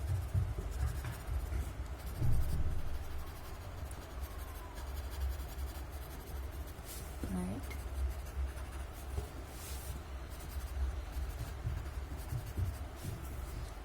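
Pencil graphite shaded softly across paper with a light hand, a faint, close, continuous scratchy rubbing in short strokes against a quiet room background; no speech.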